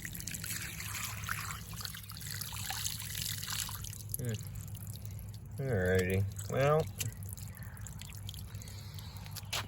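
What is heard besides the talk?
water running and dripping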